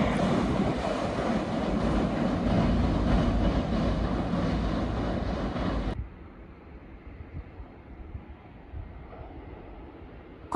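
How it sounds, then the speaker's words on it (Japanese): A Meitetsu limited express train runs through Shimoji station on the shared Iida Line section toward Toyohashi, a loud steady rumble that cuts off abruptly partway, leaving quieter ambient noise behind. "名鉄の特急が豊橋に向かって通過していきました。"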